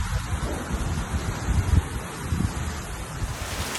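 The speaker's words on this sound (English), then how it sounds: "It's all starting to get a bit windy." Wind gusts near a beach in Tulum, Mexico, roar across the microphone as a steady, rough rush that swells and buffets, loud and close, with no voices heard.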